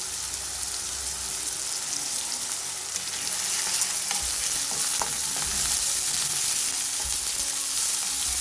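Onions fry with salt in a pan for a chicken curry, giving a steady, close sizzle that grows louder partway through, with a few faint clinks and no talking.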